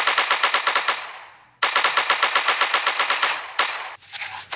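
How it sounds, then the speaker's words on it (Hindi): Rapid automatic gunfire rattles in a first-person shooting video game, loud continuous bursts of evenly spaced shots with short breaks between strings. "पीछे से फायरिंग हो रही है"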